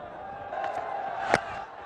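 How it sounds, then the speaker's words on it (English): A stadium crowd at a Bangladesh vs New Zealand T20 cricket match cheers from a distance in a steady wash of noise, with a sharp louder burst near the end. "The crowd."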